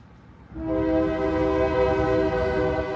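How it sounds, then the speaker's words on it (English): A train horn blares after a brief low rumble, then holds as a loud, steady multi-tone chord for several seconds over the rolling noise of the train. "Something very significant, confirmation with a train horn."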